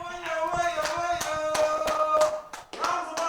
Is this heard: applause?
yes